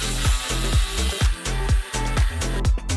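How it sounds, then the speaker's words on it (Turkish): A power drill bores holes through wooden popsicle sticks, its motor whirring in repeated short bursts that rise and drop about every half second, close and loud, with no talk. "Garajdan matkabı getirin bana ve her iki çubuktaki çizgilerin kesişim noktalarında iki delik açın"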